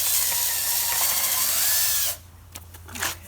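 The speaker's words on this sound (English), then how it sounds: "Pre-drill those holes right there." A power drill pre-drills screw holes into wood while installing a sliding glass door, a steady loud whir for about two seconds that stops abruptly, followed by a few light clicks and handling knocks.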